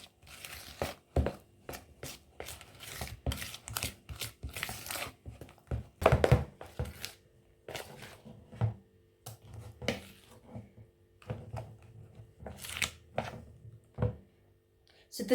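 Drop donut batter being mixed after baking powder goes in, giving a run of close, uneven scraping and crinkly tapping strokes in a bowl, with scattered louder knocks of the utensil against the sides.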